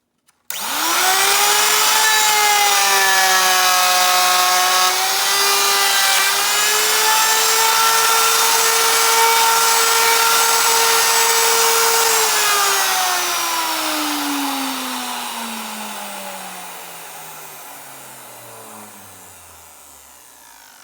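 A power saw run up on wood to cut grooves for a vanity case, a loud steady whine with harmonic tones that holds for about twelve seconds, then drops in pitch as the blade spins down and fades.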